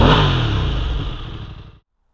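A Voge DS900X Rally motorcycle engine revs up loudly and close, then drops away as the throttle closes, leaving silence for the last fraction of a second.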